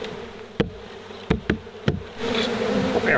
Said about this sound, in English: Tip these few nurse bees in.